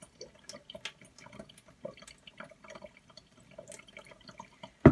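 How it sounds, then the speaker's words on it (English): Water poured off a bowl of soaking basmati rice trickles and drips in small, irregular splashes close by, ending in a sudden louder slosh. "So just pour as much as I can out without throwing the rice out of the bowl as well."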